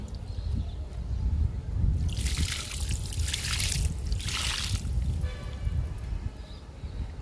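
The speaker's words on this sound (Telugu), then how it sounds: "అన్నీ కలిపి లిక్విడ్ ఇస్తున్నాను." Homemade liquid fertilizer made from dal and rice rinse water, dosa batter water and peanut chutney is poured onto a lemon plant, a steady close trickle and splash swelling in two bursts.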